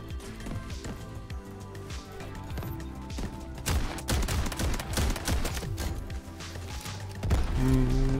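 Shotgun fire in the shooter game Delta Force, heavy blasts going off in rapid, irregular bursts amid other loud impacts and crashes, continuing loudly throughout.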